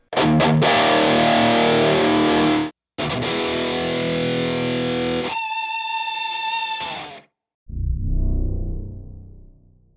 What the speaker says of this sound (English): I'm going to give you some sound samples of the MESA Boogie JP-2C